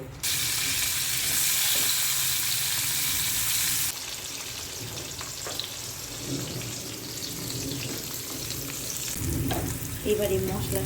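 Paneer fries in a pan for a capsicum and curd paneer dish, starting with a loud, dense hiss that drops after a few seconds to a quieter sizzle scattered with faint utensil knocks.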